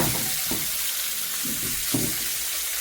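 Steady sizzling of stuffed mackerel frying in oil fills the clip, with a few soft low knocks like a pan being moved or tilted.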